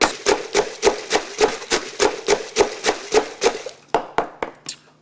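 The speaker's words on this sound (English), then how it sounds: "Muddle it." Lemon slices being muddled with Jack Daniels, amaretto, sour mix and 7 in a glass, heard as a steady run of sharp, close, evenly spaced knocks about four per second that thin out near the end.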